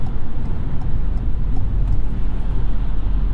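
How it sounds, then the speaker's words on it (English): Steady low road rumble inside a 2022 Ford Maverick hybrid cruising on the highway, a continuous even drone with faint ticks and no talking. "You do hear some road noise from other cars, but engine noise is pretty minimal, and wind noise isn't too bad either."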